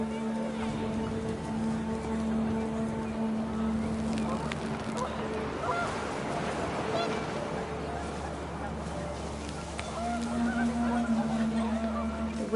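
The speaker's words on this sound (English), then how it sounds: "The wind picked up and panicked geese appeared and quickly went." Panicked geese honking in the game What Remains of Edith Finch, with brief overlapping calls set against a steady wash of gusting wind and a low rumbling ambience.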